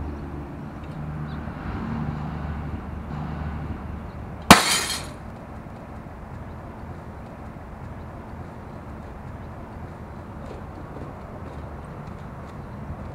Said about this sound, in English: I'm up on my roof today to show you how well the all-in-one Carboy cover stands up to a 15-foot drop